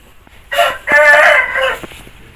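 An Aseel rooster crows loudly nearby, one long strained cock-a-doodle-doo rising and then trailing off, with a quiet pause before and after.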